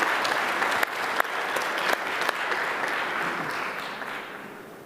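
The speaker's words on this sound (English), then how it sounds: "let's give her a round of applause" An audience applauds a prize winner at a medical ethics talk, a steady round of clapping with a few sharp, distinct claps standing out, slowly fading toward the end.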